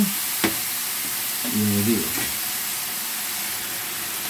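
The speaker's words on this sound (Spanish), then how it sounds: "vamos a dejar que se cocine un poquito el tomate" Grated tomato cooking in a paella pan, a faint steady hiss of frying with a brief stirring scrape and bubbling burst midway, close and low, no one talking.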